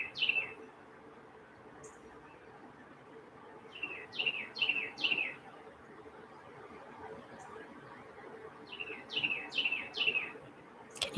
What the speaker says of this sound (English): That's the loudest bird that there ever was.